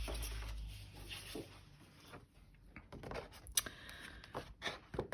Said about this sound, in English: So I'm just going to cut those ones out.